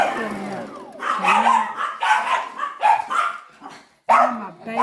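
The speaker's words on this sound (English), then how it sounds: "Listen to them bark and go crazy." Several pet dogs bark excitedly in a home during the unboxing of a Brother XR3774 sewing machine, loud repeated yaps and barks in bursts with some whining, overlapping one another close by.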